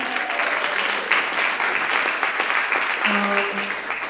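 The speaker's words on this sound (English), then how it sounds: "one more round of applause for being such a great audience" Sustained audience applause closing a campus spoken-word show, a thick wash of many hands clapping at close range with a few scattered cheers mixed in.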